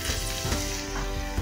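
Chopped onion sizzles in a hot pan as the base for a lentil stew, a steady dense frying hiss with no talking.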